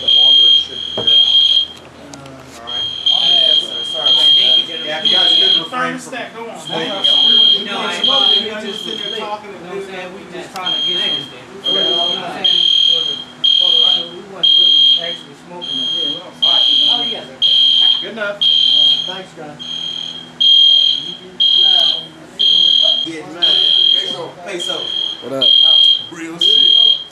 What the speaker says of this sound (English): Smoke detectors reset because of the smoke.